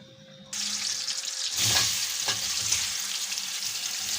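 Chicken pieces sizzle loudly in hot oil in a pan, a steady broadband frying hiss that rises sharply after a short quiet start, with a few stirring scrapes mixed in; no one speaks.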